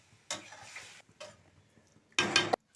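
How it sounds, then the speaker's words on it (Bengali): Water goes into a hot cooking pot of mung dal pulao in three separate hissing bursts, each a short rush of splashing sizzle, the last one loudest, with quiet pauses between. "জল দিয়ে দাও।"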